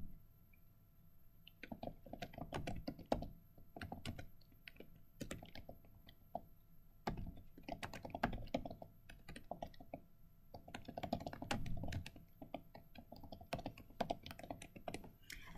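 Keys on a computer keyboard tapped in quick, uneven bursts with short pauses, quiet and close, entering text into a Chinese reading-practice web tool; no talking.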